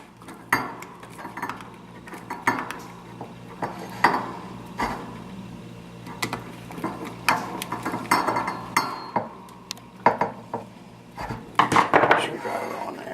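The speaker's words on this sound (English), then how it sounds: "Screwdriver on there. And tighten them up." Metallic clinks and scrapes of a screwdriver tightening screws while a Remington 870 shotgun is reassembled, irregular close taps and rattles with some talking mixed in.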